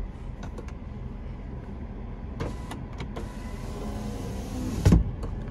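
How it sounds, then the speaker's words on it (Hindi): Electric power window motor in a Maruti WagonR hatchback humming as the glass moves, a steady whir lasting several seconds inside the car, ending in a brief louder thump as the window reaches its stop. "ये देखो विंडो भी पूरी काम कर गई है"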